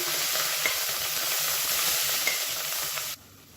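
Handfuls of mint and coriander leaves with three green chillies fry and sizzle in hot oil in a pan, a steady, loud hiss with light stirring scrapes that cuts off abruptly near the end.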